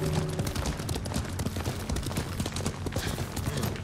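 A horse's hooves clip-clop in rapid rhythm as it gallops in the video game Ghost of Tsushima, loud and close over a dense layer of game sound, with no talk.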